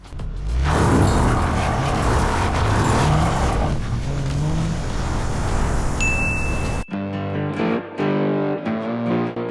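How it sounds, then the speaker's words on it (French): A car accelerates away with a loud engine roar that rises and then fades, cutting abruptly to a different scene with music-like tones. "on a un plan de la voiture qui s'éloigne vu de l'arrière"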